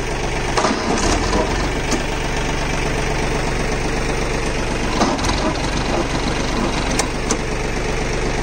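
A Mahindra OJA 2130 30 HP tractor drives an agricultural waste shredder through its PTO at 540 RPM, a loud steady engine and machine drone with occasional knocks and thumps from material being shredded.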